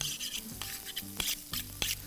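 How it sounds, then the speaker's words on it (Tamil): Onions sautéing in a pan, a soft sizzle broken by repeated scraping and clanking strokes of a spatula stirring them, close and alone. "இந்த வெங்காயம் நல்லா வதங்கட்டும்."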